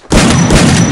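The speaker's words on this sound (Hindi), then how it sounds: "लॉन्चर मार रहा है" A launcher fires in a multiplayer video game tournament match, one sudden loud blast that starts abruptly and then sustains a dense roar to the end.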